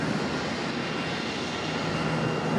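A Boeing 737 arriving on the center runway at Charlotte airport, a steady broadband jet roar that stays fairly distant and even, with no voices.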